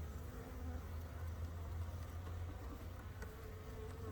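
Honeybees buzz at an open hive in a low, steady, continuous drone that stays faint and even throughout.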